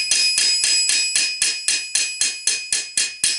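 A flat hammer strikes a metal rivet on armor in a quick, even series of about thirteen bright, ringing blows, close and fairly loud, each one trailing a short metallic resonance.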